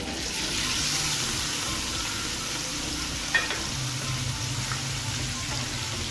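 Boiled beef tikka frying in a pan with cardamom, a steady close sizzle and hiss with a faint clink partway through.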